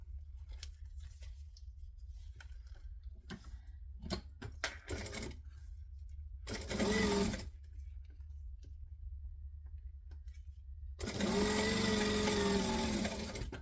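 A sewing machine back-stitches along the short edge of fabric in two loud, fast whirring runs of a few seconds each, separated by quieter clicks and handling noises.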